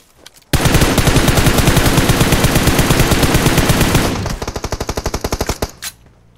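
Loud, rapid automatic gunfire in PUBG Mobile bursts in a long continuous stream, then slows into a shorter series of distinct shots before stopping.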